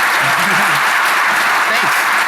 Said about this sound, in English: big round of applause for our first time speaker